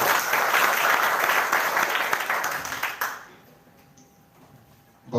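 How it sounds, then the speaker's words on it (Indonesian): Audience applause at a student organisation officers' inauguration ceremony, dense crowd clapping loud for about three seconds, then fading to near quiet before a brief swell at the end. "Kita berikan aplaus."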